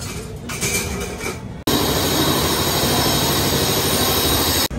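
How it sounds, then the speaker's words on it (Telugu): Hamsafar Express pulling out of Jodhpur station, a steady loud rumble of rolling wheels with metallic squeal and rattle, a brief dropout partway through, no voices. "4:50 బయలుదేరాల్సిన మన ట్రైన్ 5 గంటలకు అయితే జోధ్పూర్ నుంచి బయలుదేరింది."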